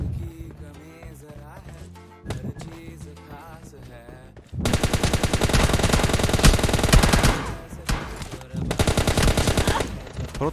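Gunfire in a mobile shooter video game, a 1v1 team deathmatch fight: scattered single shots at first, then dense sustained rapid automatic fire rattling loudly for several seconds before easing.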